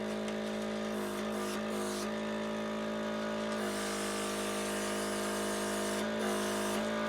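A Crayola Air Marker Sprayer switched on with scented ink markers fitted hums as a steady close electric whir with a hissing spray, changing slightly in pitch as it pulses on and off, with no talk.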